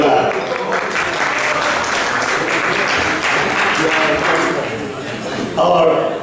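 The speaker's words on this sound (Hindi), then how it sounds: "अपने लिए भी ताली हो जाए जोरदार।" Loud applause from a community gathering audience, sustained dense clapping with cheering voices mixed in, steady throughout and swelling near the end.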